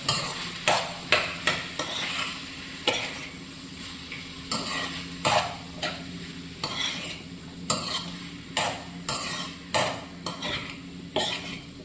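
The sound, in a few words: sautéing green peas in a pan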